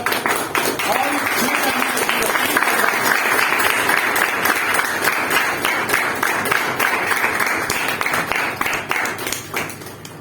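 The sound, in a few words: audience applause at a meeting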